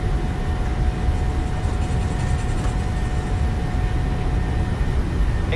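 Airliner engines hold takeoff thrust in Microsoft Flight Simulator 2020, a loud and steady roar with a broad rumbling low end and a faint whine running through it.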